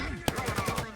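Rapid automatic gunfire in a VR roleplay game, one sharp report followed by a quick string of evenly spaced shots lasting under a second, with a voice heard alongside.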